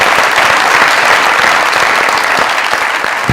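Loud, enthusiastic studio audience applause on a comedy talk show set, thick continuous clapping close to the microphone with no voices over it.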